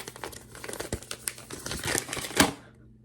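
A paper note, a sheet of math paper, is unfolded and crinkled close by, with a run of sharp crackling rustles and a louder crisp snap near the end before it goes quiet.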